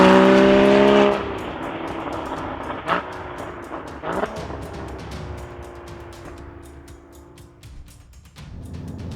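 A 2015 Porsche Cayman GT4 drives with its engine loud and revving at first, then easing to a lower steady drone before building again near the end, heard close from the car.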